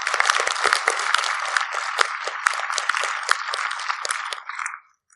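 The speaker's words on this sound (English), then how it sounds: "let's give him a round of applause" An audience at a mathematics prize session claps for an absent prize winner, dense sustained applause at close range that holds steady for several seconds and then stops abruptly.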